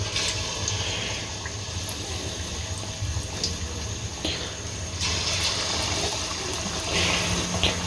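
Chicken pieces frying in a generous amount of hot oil for a wedding-style fried chicken, giving a steady broadband sizzle throughout with a couple of louder surges as more pieces go in.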